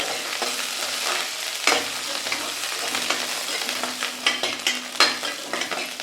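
Green chilies, onion and curry leaves sauté in a pan, a close, steady sizzle broken by repeated scraping stirs and soft spatula knocks.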